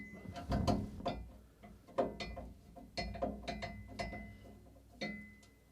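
A screw is being removed from a Cooler Master MasterFrame 700 open-air PC case with a ratcheting driver, giving close, quiet clicking ratchet strokes in uneven bursts about once a second.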